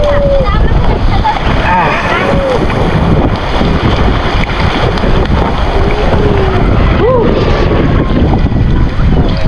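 Wooden outrigger boat pitching on rough open sea near Isla Mahaba at high tide, a constant roar of wind buffeting the microphone with splashing waves against the hull, while people talk over it throughout.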